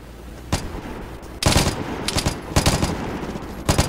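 Exchange of gunfire in the shooter game Vigor: loud, close shots, one alone and then several bursts at irregular intervals, with no talk over them.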